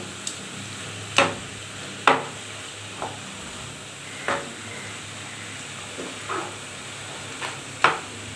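A spatula stirs ash gourd frying in a pan, giving a low steady sizzle broken by sharp scraping clicks at irregular intervals, close and moderately loud, with no talking.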